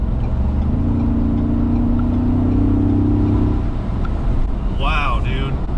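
A Ford Bronco pulls away with a steady, loud, low engine drone that gradually strengthens, followed near the end by a brief high-pitched chirp.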